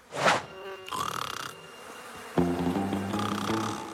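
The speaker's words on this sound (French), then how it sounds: "Mais ce sont juste des mouches." Cartoon flies buzzing close and loud, a few separate droning buzzes that rise and shift in pitch, starting with a sharp burst and followed by a longer, steadier hum, with no speech.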